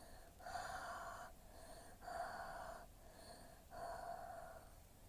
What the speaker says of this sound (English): we huff on it, and so you basically just blow your hot breath on there